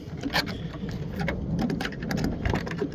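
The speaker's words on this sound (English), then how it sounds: "It's starting to get rained on." Rain patters onto an outdoor surface beside a 2002 Mustang under repair, an uneven close spatter with brief louder bursts of drops and no speech.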